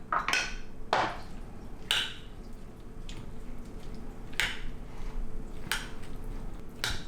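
A spoon mixes raita, yogurt with cilantro, in a bowl: soft wet squishing under a few sharp spoon-on-bowl clinks spaced about a second apart, close and fairly quiet, with no talking.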